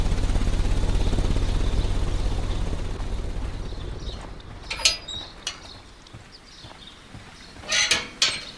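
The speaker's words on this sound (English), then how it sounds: "This ventilation fan is working." A ventilation fan in Sherlock Holmes: Crimes & Punishments drones with a low steady whir that fades over several seconds, followed by scattered sharp mechanical clicks and clanks.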